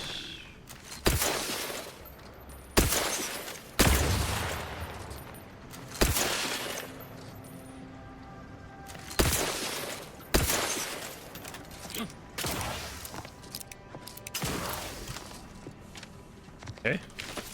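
Gunfire bursts out in The Outer Worlds 2, a string of sharp, loud shots spaced irregularly every second or two with quieter reload clatter between them, while a player talks.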